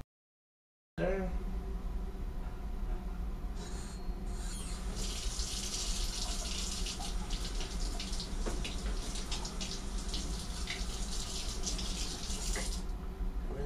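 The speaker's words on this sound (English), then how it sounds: "Rinse off my spoon" A spoon is rinsed under a running tap while cleaning winemaking equipment, giving a steady, close splashing stream of water that runs unbroken for about twelve seconds.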